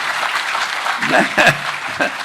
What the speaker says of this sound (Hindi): एक बार जोरदार तालियां चौधरी वीरेंद्र सिंह जी के सम्मान।